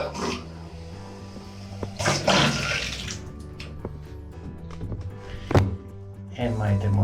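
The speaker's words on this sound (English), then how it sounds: "And my thermostatic shower is working." Water gushes from a newly fitted thermostatic shower mixer, a steady hiss with louder splashing bursts, heard close up indoors alongside clanks and a voice talking.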